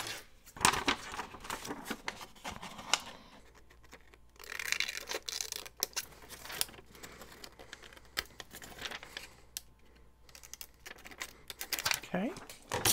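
Scissors snip through paper pieces in quick bursts of crisp cutting and rustling, close by, with a person talking at intervals between the cuts.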